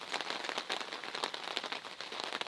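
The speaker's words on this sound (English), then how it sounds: "It's hailing right now." Hail falling outdoors in Kentucky, a dense steady patter of many small hits with sharp crackling impacts scattered throughout, close and fairly loud with no talking.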